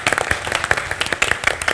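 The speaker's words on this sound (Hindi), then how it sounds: "जोरदार तालियां फॉर बीइंग अ स्पोर्ट" Studio audience at a comedy talk show bursts into brisk, dense applause, a steady patter of many hands clapping close and loud throughout the short burst.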